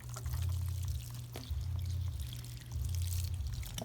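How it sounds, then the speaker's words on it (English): Seed trays topped with a half-inch to an inch of vermiculite being watered from above: a steady, continuous pour of water that briefly eases and resumes, close and fairly quiet over a low background hum. "we'll water that down"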